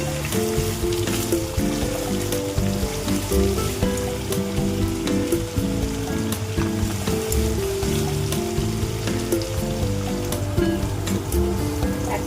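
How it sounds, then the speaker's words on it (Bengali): Green peas and small potatoes frying in hot oil in a pan give a continuous, dense crackling sizzle that stays close and fairly loud from start to finish, with no talking. "দিয়ে দিলাম তেলের মধ্যে। একটু ভাজা করে নেব। আমি দিয়ে দেবো ওটা মটরশুঁটি।"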